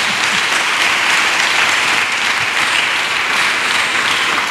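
A church congregation applauding at a thanksgiving service in Attiekoi, steady loud clapping from many hands that fills the space evenly without pause, with no voices standing out.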